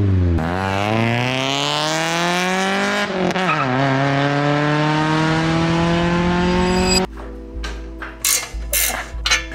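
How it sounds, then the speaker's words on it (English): A stock Honda Civic with VTEC revs up through its original exhaust, the loud engine note climbing steadily in pitch for several seconds before cutting off, followed by a few irregular mechanical knocks and clatters. "I'll put a sound clip here to show you guys how the Civic sounds before."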